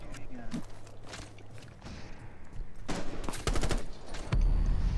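Gunfire in Rainbow Six Siege during a 1v5 round: scattered single shots, then a rapid burst of close automatic fire over ambient game sounds.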